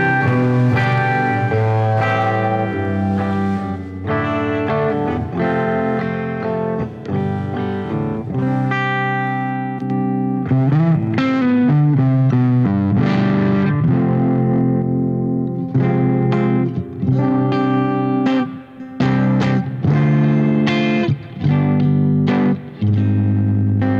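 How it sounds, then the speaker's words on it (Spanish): Clean electric guitar played through a Winstone Tubetronic GE1600H tube amplifier head, strummed chords and picked notes ringing steadily for about twenty seconds with a bright, full tone and no voices. "vamos a escuchar cómo suena la guitarra limpia."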